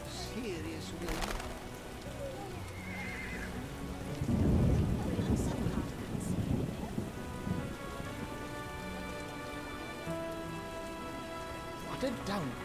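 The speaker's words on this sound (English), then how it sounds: "What a downpour." Heavy rain pours steadily in The Witcher (2007) while a deep rumble of thunder rolls through the middle, with a few faint chirps and tones scattered over the downpour.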